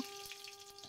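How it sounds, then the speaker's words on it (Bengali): Dried red chillies fry in hot oil with panch phoron for tempering, giving a soft, steady sizzle with faint crackles. "এখন আমি দুটো শুকনো লঙ্কা দিয়ে দেবো"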